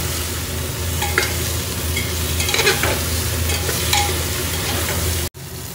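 Cut eggplant frying in a pan, stirred with a steady close sizzle and scraping under it, loud and continuous until a brief break near the end.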